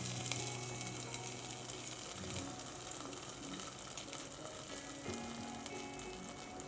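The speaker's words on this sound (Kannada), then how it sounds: "ಕೊನೆಯದಾಗಿ ತುಪ್ಪದಲ್ಲಿ ಫ್ರೈ ಮಾಡಿರೋ ಗೋಡಂಬಿ ದ್ರಾಕ್ಷಿ ಹಾಕ್ಕೊಳ್ಳೋಣ" Ghee-fried cashews and raisins go into a traditional temple-style broken-wheat payasam, giving a steady close sizzle with watery, bubbling texture and faint stirring sounds, no voices.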